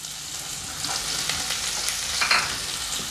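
Finely chopped onion sizzles and fries in hot oil for a chana dal methi curry, a steady crackling hiss with light stirring scrapes, close up and without any voices.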